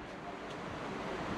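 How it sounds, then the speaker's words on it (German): Strong wind at the top of the Bismarck Tower near Augsburg roars steadily across the microphone, a continuous broadband rush that stays even throughout. "heftiger Wind oben auf dem Bismarckturm."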